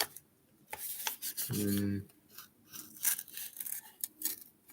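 A rusty blade is sharpened, with one short, fairly loud rasping stroke in the middle surrounded by quieter scraping and handling sounds.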